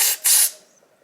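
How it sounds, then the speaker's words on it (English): A spray coating is applied to a floor during a wood-to-tile underfloor levelling job, giving two close hissing bursts, the second longer, then a short fading tail. "I'm going to spray this right now."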